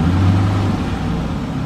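A car engine revving with its throttle controller set to economy mode, a brief, fairly loud low rumble that holds and then eases slightly.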